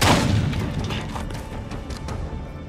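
Loud, dense gunfire booms in the zombie survival video game Days Gone, a continuous barrage of close, heavy shots that fills the whole moment without a break.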